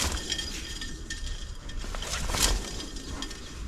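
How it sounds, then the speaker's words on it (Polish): Faint, light metallic scraping and clinking of a brake shoe lightly rubbing a trailer brake drum, with a brief brighter scrape midway, against steady low rumble and background noise. "Taki delikatny, metaliczny dźwięk, co słychać w środku"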